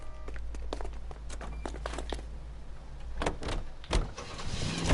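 A car in the L.A. Noire video game starts up and drives off, its low engine rumble rising under door clunks and a series of sharp clicks and thumps.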